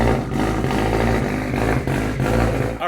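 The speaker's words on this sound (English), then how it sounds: "This may be the last time we hear the Evo with the Tomei exhaust." A Mitsubishi Evo X engine with a Tomei exhaust runs loud and close, a rumbling, throbbing drone with slight pulses in level and a short dip right at the end.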